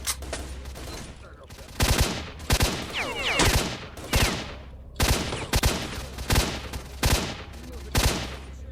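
Gunfire from a GP weapon in the game S.T.A.L.K.E.R.: Shadow of Chernobyl, loud repeated bursts and single shots in an uneven rhythm over several seconds, with a steady low hum beneath.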